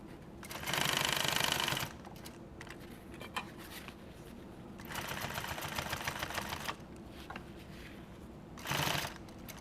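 A sewing machine stitches edge tape onto nylon tactical gear. It runs in three bursts of fast, loud mechanical whirring, with quieter stretches of handling and clicks between them and no talking.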